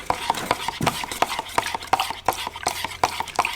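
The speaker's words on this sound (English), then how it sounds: "Next, you're going to take a supplied stirrer." Automotive paint being mixed with a supplied stirrer for a 1993 Toyota Paseo restoration, a rhythmic series of sharp taps as the stick knocks the container, roughly three per second, close and clear.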